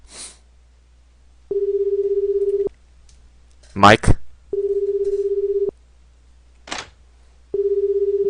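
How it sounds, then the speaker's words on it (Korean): A telephone rings in the horror game Killer Bear: three steady electronic ring bursts, evenly spaced and each lasting about a second. Someone speaks briefly and loudly between the rings. "전화가 오고 있어요"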